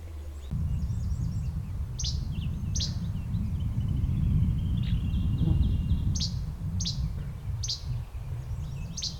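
Sharp, repeated chip calls of least flycatchers ring out at intervals, with softer chattering notes, over a steady low rumble of background noise.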